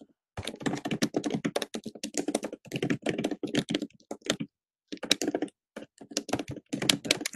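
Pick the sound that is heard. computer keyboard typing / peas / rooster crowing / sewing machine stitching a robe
computer keyboard typing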